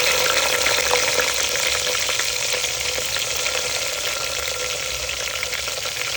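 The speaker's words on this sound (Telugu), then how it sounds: "ఇలా జీరా వేగాక పచ్చిమిర్చి వేసుకోవాలి" Cumin seeds and green chillies fry steadily in hot oil over a low flame, giving a dense, even sizzle that holds close and loud from start to finish with no voices.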